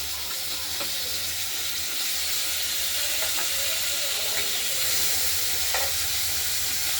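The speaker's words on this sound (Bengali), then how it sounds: "আলুগুলো ভাজা হয়েছে চিনিগুলো এবার টমেটোটা দিয়ে দেবেন" Tomato going into a pan of fried potatoes for a katla fish curry with beans and coriander, a steady sizzle running throughout with a few scrapes and clinks of stirring, close and even, no talking.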